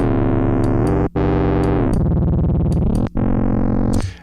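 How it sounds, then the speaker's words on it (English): An FM8 synthesizer patch with detuned offset drones loud and buzzy, its pitch shifting in steps while the detuning makes a wobbling, beating pulse, briefly cut off twice with short silences. "we get sort of that sound, a sort of messed up detuning, beating sound"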